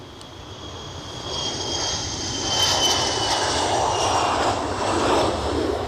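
A Loganair aircraft at Edinburgh Airport produces a loud, continuous engine roar that builds slightly and holds steady, with no talk.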